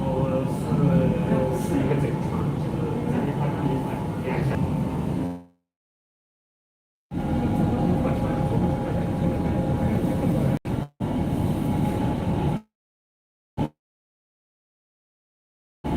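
A light railway train running on a large university campus, heard as a steady broadband rumble and rolling noise that cuts out abruptly several times, leaving brief silences.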